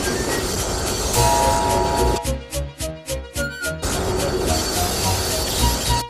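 A train rumbles loudly along the track while crossing a junction, then a burst of rhythmic clattering and screeching as it brakes, before the heavy noise resumes.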